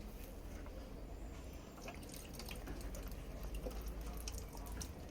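Water jets stream from holes in an uncapped plastic water bottle during a Torricelli's theorem demonstration, making a steady close trickling and splashing wash that runs unbroken throughout.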